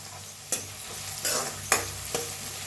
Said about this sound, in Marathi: आता कांदा भाजून घेऊया आपण